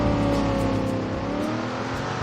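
Loud touring race cars roar and rev continuously in Assetto Corsa during an online Touring Car Legends race at Goodwood, the engine drone dense and steady with shifting pitch throughout.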